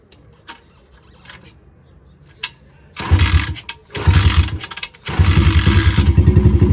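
A home-built dirt bike engine turns over and catches, sputtering through short bursts before settling into a loud, steady running drone close by.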